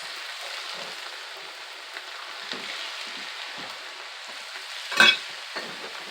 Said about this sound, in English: Put them in a little bit at a time so you can see how far your oil bubbles up.